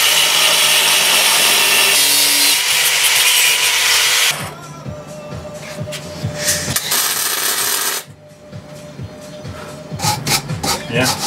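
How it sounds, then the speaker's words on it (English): Delicate power-tool cuts into the end of a Razor E300 electric scooter part to open a slot for the front fork, a loud steady grinding for several seconds, then lighter intermittent cutting with scraping and taps. "literally just a bit delicate cutting up to give us the slot we need to put the fork in"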